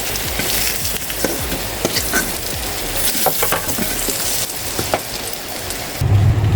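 Potatoes fry in hot oil for a chicken curry, making a constant close sizzle with crackling spatters that sounds like rain, and it grows a little louder near the end.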